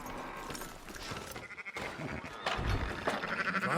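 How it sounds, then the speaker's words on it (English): Sheep bleat in the video game Red Dead Redemption 2, several wavering calls close by over a busy livestock background that grows louder toward the end. "Fine sheep."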